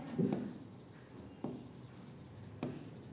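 A pen writing on paper while filling in accounting figures, three short scratchy strokes spaced about a second apart, close and quiet, with no speech.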